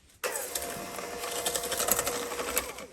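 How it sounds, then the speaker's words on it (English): An electric hand whisk starts abruptly and whirs steadily, mixing vanilla sugar for chocolate chip cookie dough in a bowl, a constant close motor buzz. "this is going to be all gently whisked together so that it's combined"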